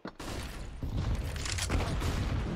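Gunfire and grenade blasts in a CS:GO esports match on the Train map, a loud, continuous burst of rapid shots and booming detonations filling the whole moment.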